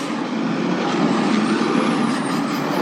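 A garbage or recycling truck passes at a distance, giving a steady broad rumble that holds even through the whole moment, with no talking.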